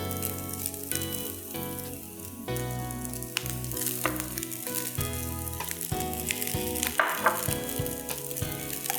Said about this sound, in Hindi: ज़रा सा इसको सौते करेंगे कि गार्लिक की खुशबू अच्छे से आ जाए।